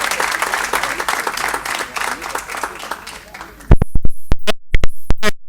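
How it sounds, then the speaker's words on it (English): Applause and clapping from an audience at a school board of education meeting fill the room, then a few loud, separate claps ring out close by as the ovation thins. "How about another round of applause?"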